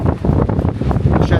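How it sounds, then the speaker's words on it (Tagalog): Heavy wind buffets a microphone at the Acropolis of Rhodes, Greece, with continuous low rumbling gusts, loud and close, with no voices heard. "Rinig nyo naman din at for sure mas malakas pa yung hangin kaysa sa boses ko."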